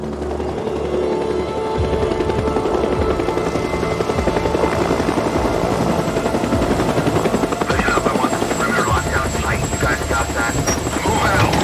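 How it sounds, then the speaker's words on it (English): A helicopter in the video game Days Gone flies overhead with a loud, continuous rapid rotor thump that holds steady throughout. "I just saw a goddamn chopper!"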